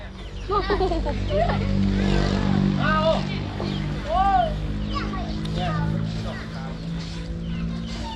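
A two-wheel walk-behind farm tractor (rot i taek) engine idles with a steady low chug at a paddy field. Children's voices chatter and call out over it throughout.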